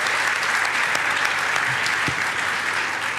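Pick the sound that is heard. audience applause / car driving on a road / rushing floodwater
audience applause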